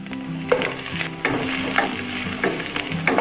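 Ginger and garlic fry in hot oil for beef fry, a steady sizzle broken by several scraping stirs of a spoon against the pan, close and moderately loud.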